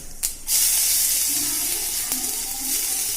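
Whole cumin seeds and chopped ginger drop into hot oil and burst into a loud, steady, close sizzle that holds after a sharp initial crackle, with no talking.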